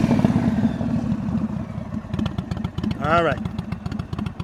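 A motorcycle rolling at slow speed with the clutch slipped during an advanced slow-speed riding practice session in North Carolina, its low engine chug running steadily under an instructor's spoken coaching.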